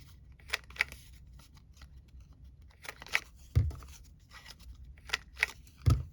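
Crisp snips of scissors cutting paper for junk journal bundles, close up, several quick cuts in an uneven rhythm with light paper rustling between them, no talking.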